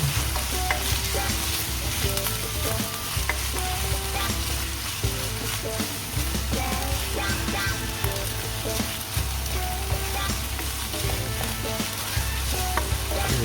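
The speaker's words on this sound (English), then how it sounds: "Stir well, but not too much." Canned tuna sisig frying and being stirred in a pan, with a continuous loud sizzle and constant scraping and clatter from the stirring utensil, close up and with no voices.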